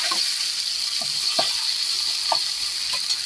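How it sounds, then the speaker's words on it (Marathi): Onion sautéing in a pan on a wood-fired stove gives a bright, steady sizzle, broken by soft stirring scrapes at irregular intervals, heard up close. "आता टाकलेला आहे कांदा परतून द्यायचं त्याला"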